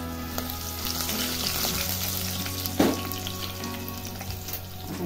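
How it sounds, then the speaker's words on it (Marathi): Garlic goes into hot oil already frying with green chillies for a Marathi varan tempering, giving a steady close sizzle that swells briefly as it lands and keeps crackling throughout with no voices. "आता घालायचा आहे लसूण,"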